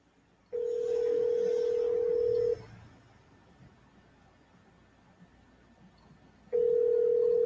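A telephone call back to Haiti ringing out: a steady single-pitched ring tone lasting about two seconds, a four-second gap of faint line noise, then the tone starting again, clear and alone.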